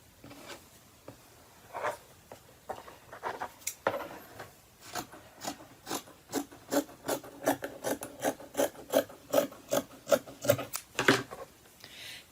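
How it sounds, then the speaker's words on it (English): Rapid rhythmic snipping and rasping of scissors cutting through t-shirt fabric, faint at first then speeding into a steady run of crisp cuts. "Scissors work just fine."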